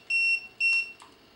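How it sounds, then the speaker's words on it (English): Two sharp electronic beeps from a TST 507 tire pressure monitor, each about a quarter second long and evenly spaced, followed by a fainter short blip, heard alone in a quiet room. "turn that beep off"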